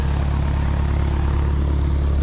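A propeller airplane taxis to park at a car show in New Castle, Pennsylvania, its engine droning loud, close and steady with a pulsing low throb and no talk.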